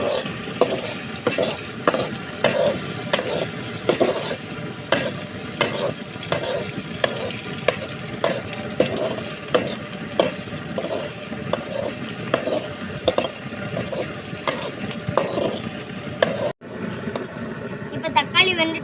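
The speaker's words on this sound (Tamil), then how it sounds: "அடுத்து நம்ம தக்காளியை போடுவோம். நம்ம கிண்டி விடுவோம் கொஞ்சம்." Tomatoes frying in a pan while being stirred, a steady sizzle broken by regular scraping strokes of a spoon, close and fairly loud, with voices talking over it, for a squid fry cooking session.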